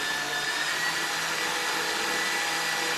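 A steady, continuous electric drill motor whir with a high tonal hum, running unbroken and fairly close throughout.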